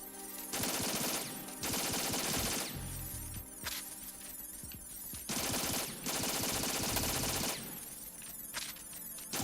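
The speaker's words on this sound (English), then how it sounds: "Just shoot it with a gun." Bursts of gunfire in Metal Gear Solid 2 as security cameras are shot out, several loud stretches of rapid automatic fire separated by short pauses with metallic impacts.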